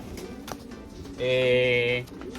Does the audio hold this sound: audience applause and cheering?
no